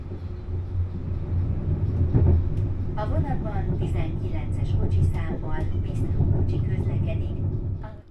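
Low, steady rumble of a Hungarian Railways train rolling along the rails, heard from inside a first-class carriage, with people talking over the noise.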